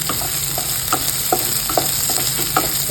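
Chopped onion frying and sizzling in hot oil for Maharashtrian fodnicha bhat, seasoned with red chilli powder, with a steady close sizzle and a spoon stirring and scraping the pan at irregular intervals.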